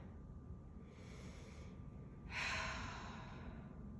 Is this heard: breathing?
yes